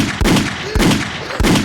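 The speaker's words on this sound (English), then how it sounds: "flames. Gunshot." Three loud, booming gunshot effects strike at regular intervals, each sharp crack followed by a brief rumbling tail, with no talking.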